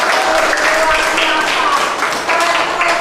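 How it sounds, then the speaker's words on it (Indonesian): A classroom of accounting students claps for themselves in steady, dense applause that fills the room from start to finish, with faint voices mixed in. "Tepuk tangan untuk diri kalian"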